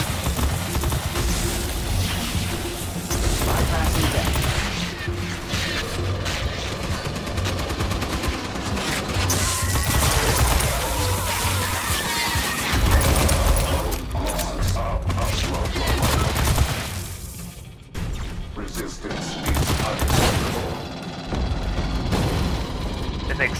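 Sustained bursts of gunfire and weapon mechanisms fill the sci-fi shooter game Aliens: Fireteam Elite, loud, dense and nearly continuous with a short lull near the end, with voices mixed in.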